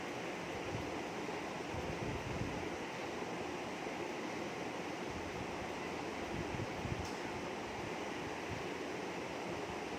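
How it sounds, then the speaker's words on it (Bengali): Finely chopped onion frying in oil until browned, a soft, steady, continuous hiss of sizzling without pauses; no voices. "তো পেঁয়াজটাকেও আমি একটু ভেজে নেব, একটু লাল করে ভেজে নেব আমি।"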